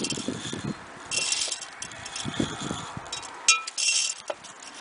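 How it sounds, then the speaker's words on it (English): Glass marbles clink and rattle as they are sifted out of old aquarium gravel, bright scattered clinks over a gritty shuffling, close and fairly loud with no talking. "I'm going to be sifting out my marbles though"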